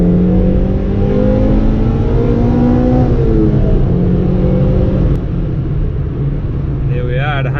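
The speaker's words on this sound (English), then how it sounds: "now we're going to head onto the motorway. We're going to drop down to second gear." Honda Civic Type R EK9 with its B16 engine accelerating onto a motorway in second gear, a loud steady engine drone rising in pitch, easing with a gear change near the end.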